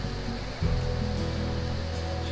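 A waterfall along a muddy creek hiking trail gives a steady, broad rushing roar that swells louder partway through and holds constant, with no voices.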